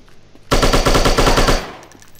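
AK rifle automatic fire in a shooting video game, a loud continuous one-second burst of rapid rounds that breaks suddenly from near silence and cuts off with a short decaying tail.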